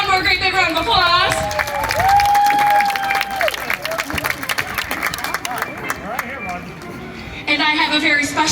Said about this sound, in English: Let's give them one more great big round of applause.